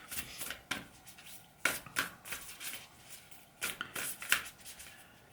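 Oracle cards get shuffled close by in quiet bursts of crisp riffling and slapping, with several separate flurries and short pauses between them.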